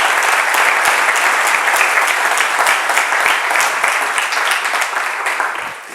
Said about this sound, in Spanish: quiero que le deis un aplauso muy fuerte a todas esas madres y padres que luchan por vuestros hijos